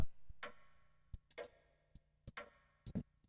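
A clock ticks inside a horror video game, sharp irregular clicks spaced a fraction of a second apart over a quiet background, with no talking.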